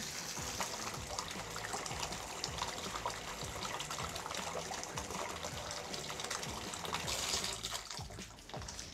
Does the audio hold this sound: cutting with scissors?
no